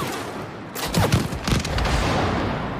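Gunfire in the video game It Takes Two: a burst of sharp shots near the middle, over a steady rushing background noise.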